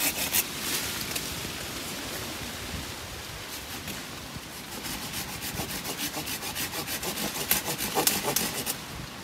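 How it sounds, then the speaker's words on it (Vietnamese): A hand saw cuts branches off a three-year-old Booth avocado tree in an orchard, its rasping strokes growing into a quick, steady back-and-forth rhythm toward the end, with no talking. "Mấy cái này cưa hết luôn ạ."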